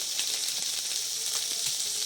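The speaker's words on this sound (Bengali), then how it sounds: "তেলে শুকনো ঝাল দিয়ে দিচ্ছি" Dried red chillies sizzle in hot oil in a wok, a steady, close crackling hiss with faint pops running throughout and no voices.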